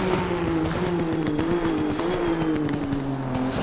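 Nissan GTR GT3 race car in Assetto Corsa Competizione holding a loud, steady engine drone that wavers slightly as revs shift, with faint tyre noise, no talk.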